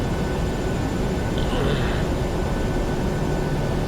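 Steady roar of Boeing 737 jet engines from the PMDG 737 NGX in the Prepar3D v4.5 flight simulator, spooling up for takeoff as thrust comes up, a continuous broadband rumble heard from inside the aircraft.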